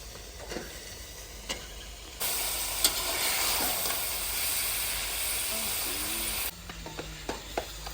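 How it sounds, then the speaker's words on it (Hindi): Chicken frying in an onion, garlic, ginger and tomato masala, a loud steady sizzle and hiss for several seconds, framed by quieter stirring and soft clinks before and after. "प्याज लहसुन अदरक टमाटर की भुनी लगा के मैंने इसमें डाल दिया चिकन"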